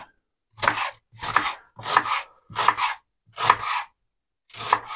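Red onion being chopped with a knife on a wooden board beside a stone fireplace, six evenly spaced crisp chops, close and loud with silence between strokes.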